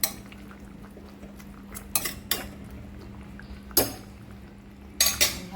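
A spoon works a tomato and fresh coconut mixture in a pot, with a few sharp metallic clinks and scrapes at irregular intervals over a quiet background hum.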